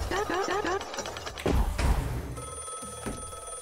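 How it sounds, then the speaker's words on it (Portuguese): A phone rings in a video game, its tonal ring rising in the second half over busy game sounds, thuds and a voice. "O telefone tá tocando."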